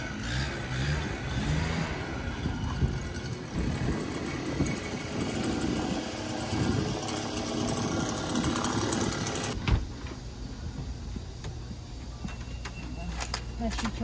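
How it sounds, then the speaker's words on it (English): A leaf blower runs outdoors in Seoul near Bukchon Hanok Village, a steady buzzing engine whine with street ambience while people talk over it. "And we have our leaf blower."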